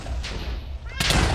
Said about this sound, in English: And the fireworks commence.